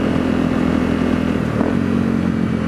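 A motorcycle engine idles steadily nearby after weeks of sitting on a battery tender, a continuous low rumble with no talking, on a wet winter day.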